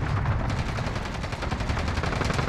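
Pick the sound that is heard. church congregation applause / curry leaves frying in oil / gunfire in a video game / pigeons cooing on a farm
gunfire in a video game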